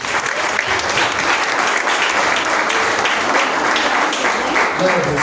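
A church congregation applauds together in sustained, even clapping that fills the space at steady loudness throughout, with no speech over it.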